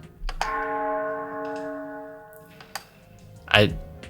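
A single resonant bell strike, sampled from the God of War video game, rings out with a long, sustained tone that slowly decays, followed by a few small knocks and a sharp swelling clang.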